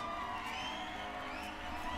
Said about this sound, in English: Let's give our sponsors a big round of applause.